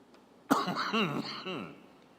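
A sudden harsh cough bursts out, followed by a few rough, throaty voiced sounds, close to the microphone.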